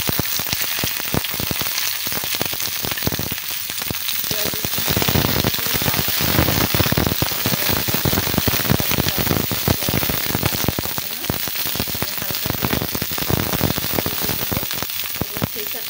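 Onion and garlic dropped into hot oil with fried dried chilli, a loud continuous crackling sizzle with sharp popping spatters throughout.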